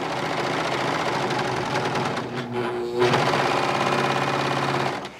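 A Bernette B44 serger stitches along a curved fabric edge, running as a loud, close, continuous rapid mechanical whir with a brief dip midway before it resumes.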